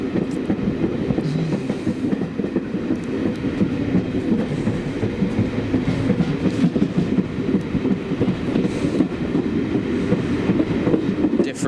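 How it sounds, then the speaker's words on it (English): BR era diesel locomotive train running on a heritage railway, a continuous heavy rumble with rhythmic wheel clatter over the rails, steady and fairly close throughout. "the sounds of BR era diesel engines will never not be awesome to me"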